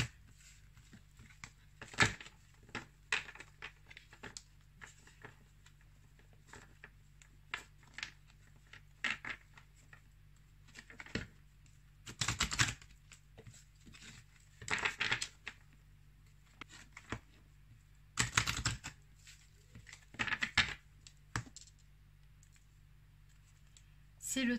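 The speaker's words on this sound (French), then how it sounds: "Alors, on va d'abord les mélanger." Oracle cards being shuffled give soft, quick bursts of riffling and clicking in scattered clusters over a quiet background, with a French-speaking voice talking between them.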